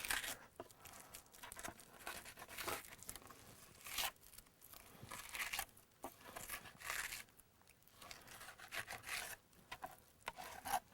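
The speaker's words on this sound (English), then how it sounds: "trying to fillet a fish with a butter knife. Short, glancing kind of strokes" A butter knife scraping along a walleye while filleting, short glancing strokes heard as quiet, close, irregular rasping rubs with pauses between.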